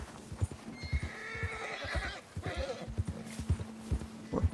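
Wildfire the horse in Red Dead Redemption 2 gallops along a mountain ridge, rhythmic hoofbeats clip-clopping throughout with a clear neigh and whinny rising over them, fairly close and at low volume.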